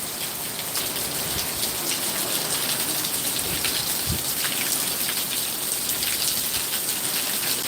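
Heavy rain from Hurricane Milton pours down steadily and loudly, with water spilling off a roof and gusting wind adding a constant hiss and roar.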